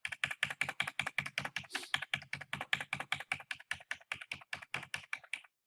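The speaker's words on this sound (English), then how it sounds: "you can use your keyboard arrow key to move" Computer keyboard arrow keys pressed repeatedly during Photoshop work, a steady run of about thirty crisp, close clicks evenly spaced with brief gaps, quiet and alone.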